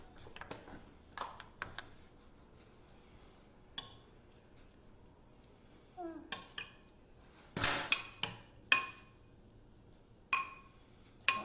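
Sparse metallic clinks of a utensil against a bowl while lobster filling is mixed with salt and pepper, isolated taps separated by quiet gaps, close and fairly soft.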